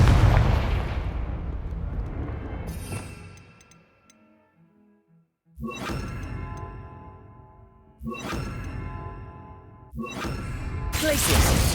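Bombarda and Confringo spell blasts from the Hogwarts Legacy video game: a loud booming explosion with crackling debris, followed by several more sharp blasts in quick succession with brief pauses between.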